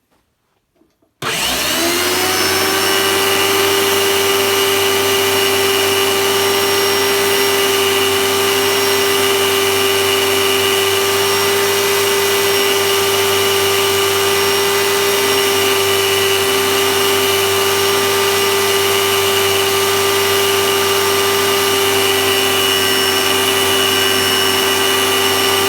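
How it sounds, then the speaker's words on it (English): A 42-inch belt sander fitted with a 240 grit belt starts up and runs steadily, a loud continuous motor hum and belt whine holding at an even level for about twenty-five seconds with no talking. "So I'm going to fire it up and do a little bit more on the other side."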